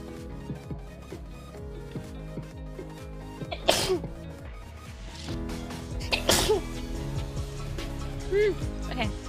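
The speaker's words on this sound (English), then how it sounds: "I need to sneeze." A girl sneezes twice, two sharp close bursts a few seconds apart, with people talking around them.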